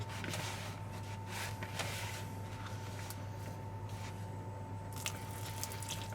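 Water is added little by little to corn flour and salt for cornbread dough, producing faint wet drips and soft squishing over a steady background hum.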